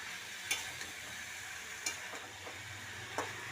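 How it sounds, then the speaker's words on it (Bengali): Ginger and cumin paste is stirred in a frying pan, with a faint low sizzle and a few soft, spaced scrapes of the spoon. "ভালো করে নেড়ে চেড়ে নিলাম।"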